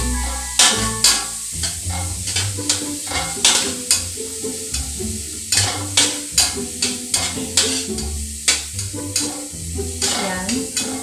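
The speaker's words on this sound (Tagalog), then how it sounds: "igisa po natin muna ang sibuyas" Onions sautéing in a pan for a creamy carbonara, with steady close sizzling and frying broken by repeated stirring scrapes at an uneven rhythm, loud and alone with no talk.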